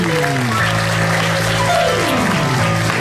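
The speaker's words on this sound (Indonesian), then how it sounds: "Kita kasih tepuk tangan dulu untuk Zeda Salim" A studio audience at an Indonesian comedy talk show applauds, a loud, dense wash of clapping that fills the short stretch with tonal music or voices running underneath.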